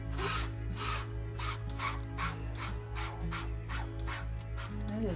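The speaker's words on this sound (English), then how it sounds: "I'm just kind of giving it a gentle rub" Damp paper laid over paint for a photo transfer is rubbed gently by hand in regular back-and-forth strokes, a soft rhythmic rasp close by over a low steady hum.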